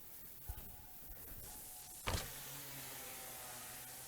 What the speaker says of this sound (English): It's actually a speaker outside playing a backup noise for you.